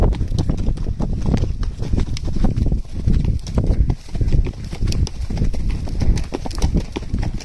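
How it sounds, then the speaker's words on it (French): A horse galloping over ground outdoors, continuous rapid rhythmic hoofbeats, loud and close throughout, with faint breathing and tack noise. "nous on galope avant de trotter"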